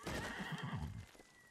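A horse in the samurai video game Ghost of Tsushima lets out a short whinny with a wavering pitch, fairly close and not very loud, the call trailing off after about a second.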